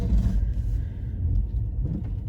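A car pulls away from a garage on a stormy, snowy day, a low steady engine rumble close by with faint higher rattles on top and no talking.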